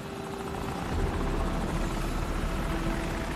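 An enemy helicopter in the video game Call of Duty 4: Modern Warfare, heard as a steady whirring rotor drone that swells slightly louder after the first second and holds constant, with no voices over it.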